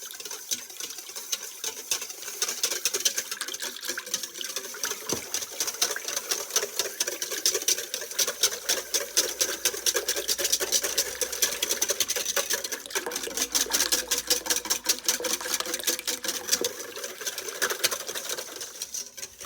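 Whisk beating chicken and rice casserole ingredients in a bowl, a fast rapid clicking rattle that builds into a dense, steady rhythm for most of the stretch, close and fairly loud, with a few pauses.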